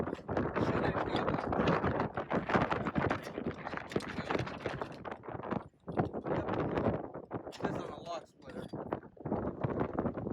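Gusty wind buffets the microphone in loud, rough rumbling bursts almost nonstop, with a couple of brief lulls along the way.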